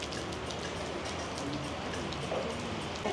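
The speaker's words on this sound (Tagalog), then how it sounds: "sinundan kami ng ulan guys. Yun guys. Umuulan dito." Steady rain falls at a seaside restaurant, a dense, continuous patter of drops on surfaces throughout, close and even with no voices over it.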